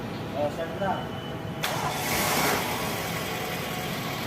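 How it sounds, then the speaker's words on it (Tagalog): A Toyota Corolla engine with a newly replaced timing belt turns over and starts, then keeps running with a steady mid-pitched hum, while a person speaks briefly at the beginning. "pwede ko na ngayon i-start itong makina"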